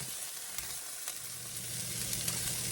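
Julienned vegetables sizzle steadily in a hot pan for a casserole, a dense, even frying hiss close up with a few faint stirring ticks and no talking.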